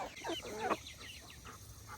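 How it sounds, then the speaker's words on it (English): Chickens cluck softly in short, scattered bursts right around the feet of someone in a backyard flock at feeding time, close and fairly quiet, with no talking. "I've got all the other chickens around me right now."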